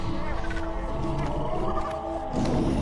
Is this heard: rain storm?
no